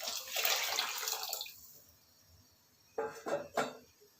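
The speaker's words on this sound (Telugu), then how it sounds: "ఈ మిగిలిన వాటర్ కూడా యాడ్ చేస్తాం" Remaining water is poured into a pot of khichdi, a gushing splash for about a second and a half, then quiet, followed by a few short pours and sloshes near the end.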